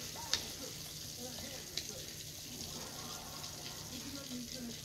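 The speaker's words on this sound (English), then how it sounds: "I'm gonna let these fry a little more." Catfish pieces frying in hot oil, a faint steady sizzle and bubbling throughout with a couple of brief clicks, no talking over it.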